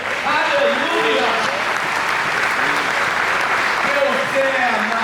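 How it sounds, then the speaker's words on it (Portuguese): Congregation applauding steadily during a Baptist church anniversary service, a dense, continuous wash of clapping that stays loud throughout, with a voice talking over it. "dá glória a Deus, aplauda Jesus, aleluia!"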